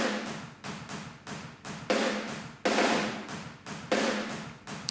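Snare-heavy drum room samples, triggered and sent to a parallel bus with a limiter, hit in a steady rhythm of loud, roomy, reverberant crashes with short decays, no talking.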